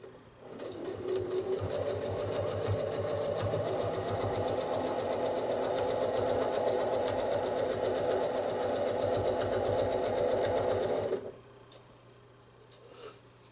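A sewing machine runs steadily during free-motion quilting of a house block, a continuous rapid stitching whir lasting about eleven seconds before stopping abruptly, close and fairly loud with no talk over it.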